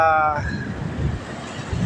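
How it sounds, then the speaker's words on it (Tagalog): Ocean waves wash at a shore, a broad rushing surge mixed with wind buffeting the microphone, loud and steady for a moment as a voice fades at the start. "ayan kung nakikita nyo po, kahit hanggang ngayon o umaalon pa po rito"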